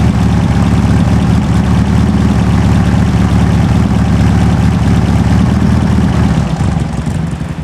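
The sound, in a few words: 1970 sand rail 2.2L engine with dual 44 IDF carbs idling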